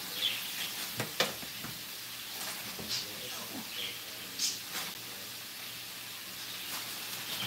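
Green beans and carrots sizzling in a pan in a cafe kitchen, a faint continuous hiss with occasional soft pops and clicks, somewhat distant.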